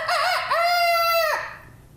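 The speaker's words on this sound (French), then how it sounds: "que le coq eut chanté..." A single loud rooster crow, a rising call that holds steady and then drops away, heard up close and alone during a storytelling session.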